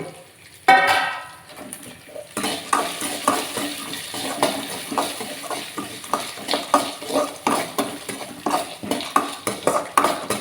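Dried red chilies, ginger pieces and curry leaves sauté in a pan with leftover rice, a steady stirring and scraping with a utensil over a soft sizzle, rhythmic close spoon-on-pan clinks repeating throughout.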